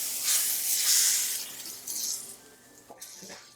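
Mushrooms stir-frying in oil in a wok give a loud hiss of sizzling that swells and fades. Toward the end come a few light scraping and clinking sounds as the spatula moves.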